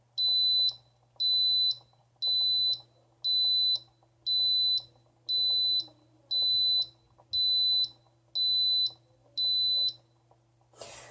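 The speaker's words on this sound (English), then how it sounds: "those are the beeps that it makes to tell you that it has finished its allotted cooking time" A pressure cooker beeps in a steady series at the end of cooking, about ten evenly spaced high-pitched tones, loud and clear over a faint background hum.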